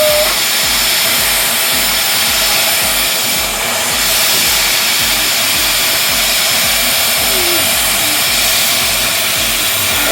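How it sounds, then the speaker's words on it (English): A vacuum cleaner runs loud and steady while cleaning bird cages, a continuous close whine and roar that holds unbroken for the whole stretch. "I'll put more vacuum in here"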